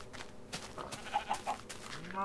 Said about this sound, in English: How did the sheep get in here?